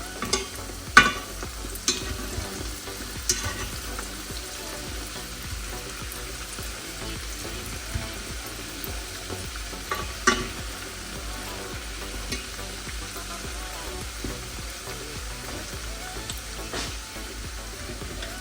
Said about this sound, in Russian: жарим все до готовности